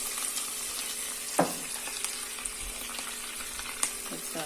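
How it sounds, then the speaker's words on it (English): Garlic frying in a pan with cream just added, giving a steady close sizzle with soft stirring scrapes and a few sharp pops. "And add some cream to prevent the garlic from popping."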